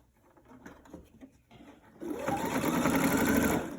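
A sewing machine stitches a fabric face mask, first a few short tentative bursts, then a steady, close whirring run of rapid stitching that stops abruptly near the end.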